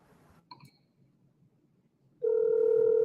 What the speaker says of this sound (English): Can y'all hear my phone ring?